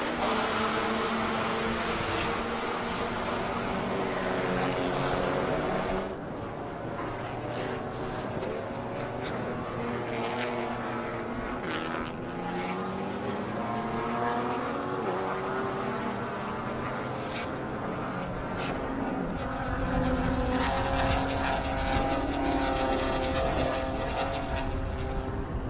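Race cars on hot laps at Circuit of the Americas during a Super Lap Battle, their engines droning and rising in pitch as they pass, with one loud sustained roar fading and more cars building again later.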